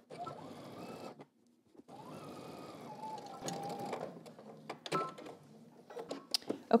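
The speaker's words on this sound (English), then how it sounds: "I'm top stitching 3/8 of an inch from the fold." A sewing machine top stitches along a fold, quiet close runs of stitching broken by a brief pause, with small clicks and handling noises.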